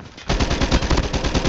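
Rapid automatic gunfire from a video game shooter, a dense run of repeated shots starting abruptly after a brief quiet moment and continuing steadily, loud and close.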